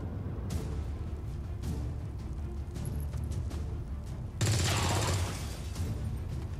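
Bursts of gunfire in the strategy game XCOM 2 War of the Chosen crack out over a low rumble, with a louder, dense volley near the end.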